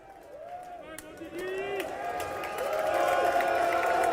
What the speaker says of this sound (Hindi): प्रधानमंत्री मोदी जब यूएस कांग्रेस के अंदर पहुंचे तो तालियों से स्वागत हुआ।